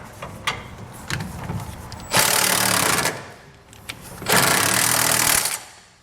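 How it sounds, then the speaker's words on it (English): Power tool tightening bolts on a B and W fifth wheel underbed kit in a 2020 Ford F-250 Super Duty bed, a few short clicks then two loud sustained bursts of whirring impact, close up. "So let me tighten this up real quick."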